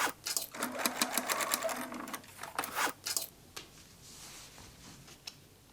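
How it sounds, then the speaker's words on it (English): A sewing machine top stitches along a denim strap cut from old jeans, with rapid rattling bursts of stitching and short pauses in between, close and clear with no talk. "top stitch along the entire length"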